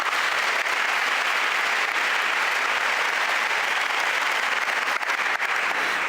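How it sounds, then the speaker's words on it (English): Steady, dense applause from a large crowd, loud and continuous throughout with no breaks. "give yourself a round of applause for simply turning up"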